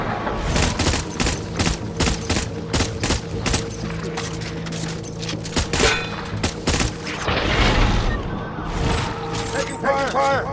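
Gunfire in Death Stranding on the hardest difficulty, rapid bursts and clustered shots that crack repeatedly throughout, loud and close, with voices speaking between the volleys.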